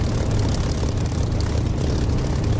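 In the DCS flight simulator game, a Spitfire's piston engine and propeller give a loud, constant throbbing roar, heard close and alone, with no voice over it.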